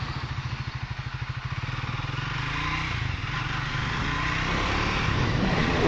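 Triumph Thruxton 400 motorcycle being ridden, its engine starting with a steady, throbbing idle-like pulse that smooths into a continuous, rising road drone with wind noise, loud and close, no talking.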